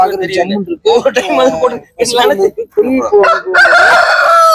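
A rooster crows loudly and close by at a Tuesday livestock market in Erode district, one long call near the end after several voices talk back and forth.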